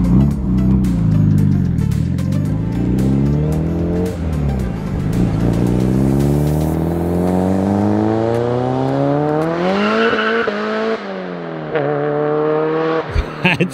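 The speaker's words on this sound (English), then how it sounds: "it is obviously very loud because you have a screamer pipe." A boosted Honda with a screamer pipe drives hard, its loud engine note rising through the gears in long sweeping pulls with brief dips at the shifts, close and dominant throughout.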